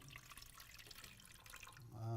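Water runs and splashes faintly over chopped leek in a home kitchen while pikliz and soup joumou are being made, the soft trickle sitting under quiet conversation and swelling louder at the end.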